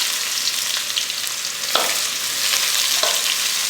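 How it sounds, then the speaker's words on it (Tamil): Finely chopped onions fry in a pan with a light pinch of salt, a bright steady hiss throughout with a few soft scrapes as they are stirred. "வெங்காயம் கொஞ்சம் சீக்கிரமாக ஃப்ரை ஆகும்"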